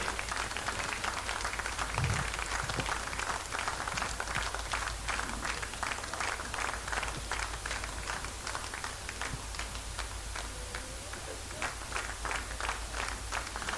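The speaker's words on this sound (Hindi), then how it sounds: "जोरदार तालियां हो जाए सर रमेश लिंगी जी के लिए" An audience at a dance competition grand finale gives a guest sustained, even applause, with dense rapid clapping that carries on at a steady level for the whole stretch.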